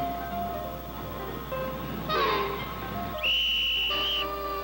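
A 1960s animated cartoon whistle, bright sustained toots with sliding pitch, the second held longer, heard alone over orchestral backing.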